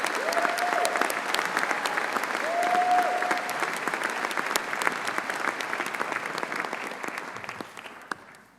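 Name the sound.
audience applause for musicians at a graduation ceremony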